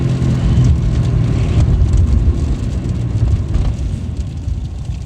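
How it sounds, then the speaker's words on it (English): A Mazda 3 engine held at floored throttle, droning loud and steady as it struggles to gain revs, with no talking over it. "I pretty much got the pedal floored right now, and you can see the RPMs don't really want to go up."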